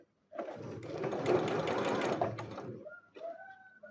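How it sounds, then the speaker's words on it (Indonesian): A sewing machine stitches a small piece of fabric, running in one steady close burst of mechanical whirring for about two seconds, then stopping with a few short clicks and light handling noises. "Oke, kita jahit kain kecil terlebih dahulu."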